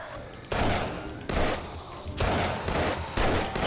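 Gunfire in the zombie survival game 7 Days To Die erupts in four loud, dense volleys close by, each lasting about a second with brief pauses between, the shots blurring into sustained roaring bursts.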